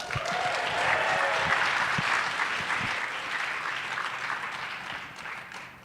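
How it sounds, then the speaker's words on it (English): An audience at an all-campus gathering applauds with dense, steady clapping that holds for several seconds before tapering off near the end. "Please join me in giving a round of applause to Turner Sale."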